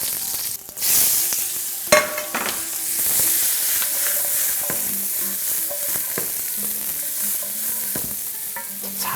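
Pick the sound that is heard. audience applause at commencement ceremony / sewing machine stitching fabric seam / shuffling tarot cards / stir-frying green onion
stir-frying green onion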